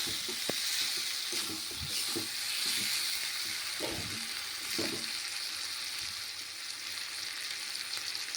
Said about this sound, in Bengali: মাঝে মাঝে নাড়তে থাকবো যাতে হলুদ লঙ্কা পুড়ে না যায়।